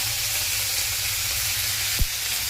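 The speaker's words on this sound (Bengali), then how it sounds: "তা তেলের মধ্যে আমি সর্ষে ফোড়ন দিয়ে দিলাম, সর্ষে আর কারি পাতা" Mustard seeds and curry leaves sizzling in hot oil for a spicy semolina breakfast dish, a loud, dense, continuous hiss and crackle close up, with one brief clunk near the end and no voices.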